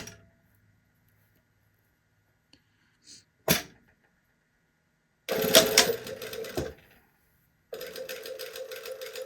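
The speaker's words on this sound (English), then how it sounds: "So this piece that's the underlap, I'm going to turn and sew down" Sewing machine topstitching the underlap piece of a garment, a short isolated stitch burst, then a longer steady run of rapid mechanical stitching, a pause and another run, close and fairly quiet against silence.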